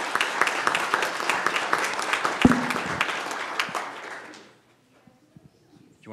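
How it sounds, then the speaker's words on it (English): A crowd at a city council meeting breaks into a round of applause, with dense clapping close by that thins out and fades to near silence, leaving a few scattered claps. "Little round of applause, don't be afraid."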